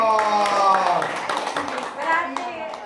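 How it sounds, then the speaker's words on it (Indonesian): Brief scattered applause from a small audience at a talk, hand claps mixed with a voice and background chatter. "Tepuk tangan dong."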